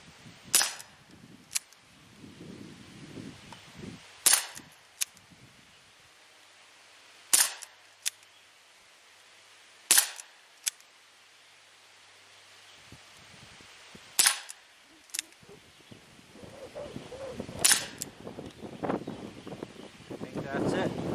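An ASG Dan Wesson 4 inch CO2 BB pistol fires about ten sharp, isolated shots at irregular intervals outdoors, with wind noise and some low rumble between them.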